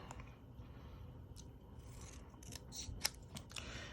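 Scissors cutting cardstock at a craft table, heard as a few faint, scattered snips and crisp scraping cuts over a low room hum, one sharper snip standing out near the end.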